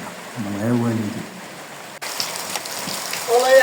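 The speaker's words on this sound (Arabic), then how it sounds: "والله الحمد لله على هاد الشتا" Steady rain falls throughout, a continuous hiss of drops on surfaces outdoors. A voice speaks briefly near the start, and the rain grows slightly louder toward the end.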